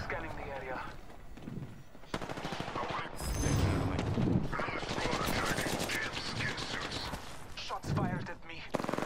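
Bursts of rapid automatic gunfire in the video game Apex Legends, loud and repeated across the stretch, with a spoken voice over parts of it.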